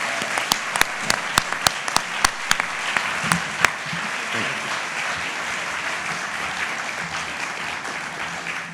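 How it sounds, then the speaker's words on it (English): An audience applauds award finalists at a community volunteer awards ceremony, with sharp individual claps standing out early over a steady wash of clapping that carries on through the whole stretch. "can we have one more round of applause for them?"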